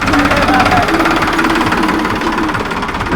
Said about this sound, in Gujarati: અમારો સંઘનું ટ્રેક્ટર પણ જઈ રહ્યું છે અને અંદર માણસો બેઠા છે